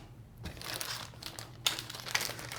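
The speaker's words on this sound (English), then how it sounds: "Some packing paper." Packing paper crinkles and rustles as it is pulled from a box during the unboxing of motorcycle lights for a 2024 Yamaha MT-10, with a few sharper crackles in short, quiet bursts.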